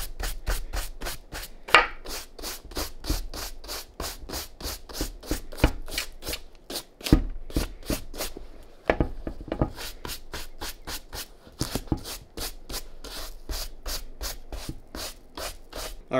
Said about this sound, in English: Now, we're going to first start off with is dusting this excess dust off